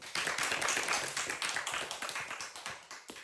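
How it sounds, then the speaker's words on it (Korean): Steady audience applause fills the room, dense overlapping claps at an even loud level that slowly eases off toward the end. "지금부터 오경호 명사님을 큰 박수로 맞이해 주세요"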